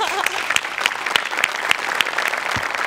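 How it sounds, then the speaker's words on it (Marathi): A studio audience at a Marathi comedy show claps steadily, a brief burst of crisp, rhythmic applause with sharp individual hand claps standing out throughout. "म्हणून स्वतःसाठी एकदा जोरात टाळ्या वाजवा"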